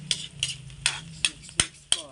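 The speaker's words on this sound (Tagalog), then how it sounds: "At halu-haluin po natin ang ating talangka." Small crabs (talangka) being stirred in a pan for lagat talangka, a spoon scraping and clinking against the metal in short repeated strokes, with a light sizzle underneath.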